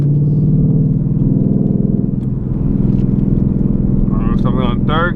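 Night drive in a 2020 Ford Mustang 5.0 with muffler delete: a loud, steady low exhaust rumble in third gear, with a short burst of crackling pops near the end. A voice speaks over the engine.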